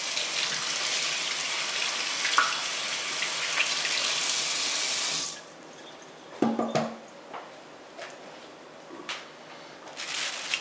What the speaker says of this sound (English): Go ahead and get my hands washed real quick.